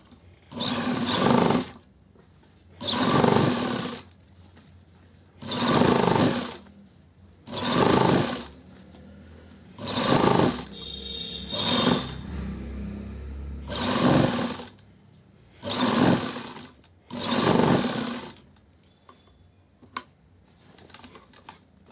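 An electric sewing machine stitching an embroidered suit, running in repeated bursts of rapid whirring stitches about two seconds long, separated by short pauses, close and steady.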